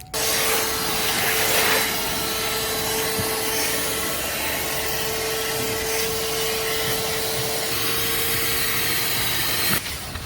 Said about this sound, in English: So we're gonna vacuum them out.